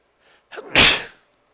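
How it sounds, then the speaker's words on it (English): A single person's sneeze, a short breathy intake followed by one loud, sharp burst that fades quickly, heard close up with nothing else around it. "I have a sneeze coming"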